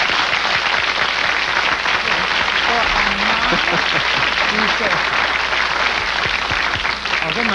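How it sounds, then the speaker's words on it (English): Studio audience applause on a 1970s television game show, a dense, steady roar of clapping that stays loud throughout, with a voice talking over it. "That's what we need is some more applause"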